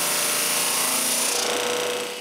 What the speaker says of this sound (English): I sand all the panels to the same thickness.